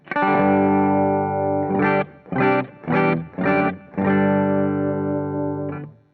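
An electric guitar on a clean tone through an amp, with reverb, rings out a long sustained chord, then a series of short, punchy chord stabs, and ends on another held chord.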